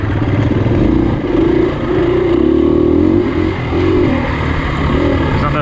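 A KTM 350 dirt bike ridden on Ohio trails, its engine droning loudly and steadily up close, rising and falling slightly in pitch as the throttle shifts.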